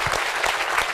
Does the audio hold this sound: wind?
no